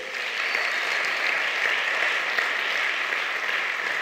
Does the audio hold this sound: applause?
yes